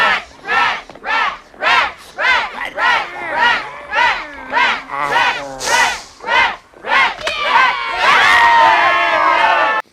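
A movie crowd cheers on two Ghoulies as they high-five in a Ghoulies 2 scene. Loud rhythmic chanted shouts repeat about twice a second, then swell into a sustained roaring cheer near the end.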